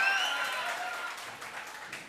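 Audience applause at an annual school function in Ratnagiri, a steady broadband patter of many hands clapping that holds for about two seconds and tapers slightly, with no talk over it.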